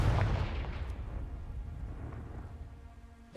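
The Confringo explosive spell goes off in Hogwarts Legacy, a single heavy blast at the start that rumbles and decays over a few seconds, then a small fresh hit at the end.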